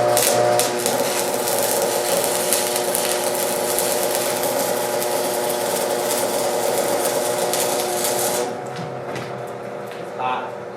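A homemade Port a Wrap is welded with a continuous, close crackling hiss that holds steady for about eight seconds, then drops away to quieter handling noises.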